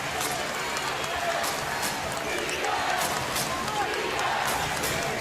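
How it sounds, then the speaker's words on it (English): Home crowd at Carnesecca Arena during a St. John's versus Xavier men's college basketball game chanting defense, a rhythmic massed chant in a packed arena under a commentator's talk. "Chance of defense from the crowd here at Carnesecca."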